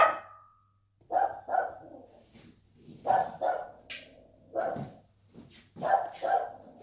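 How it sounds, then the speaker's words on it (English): A pet dog barks in several short bursts, two or three yaps at a time in three or four clusters, moderately close indoors in a quiet room. "my dog started barking"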